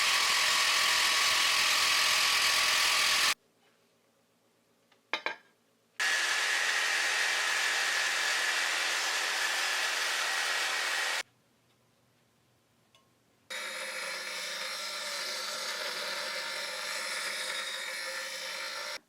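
A loud power tool shrieks through metal on a Bart Cham Dao sword in two long bursts, with a quieter, lower-pitched run after the second pause.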